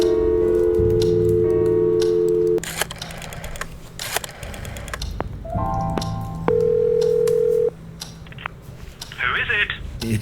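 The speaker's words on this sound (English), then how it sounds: "Calling fucking Jerry on this fucking phone." An old telephone in the game Scratches beeps through a sequence of steady dial tones, then clicks and short rising tones as a number is dialed, with some handling noise between them.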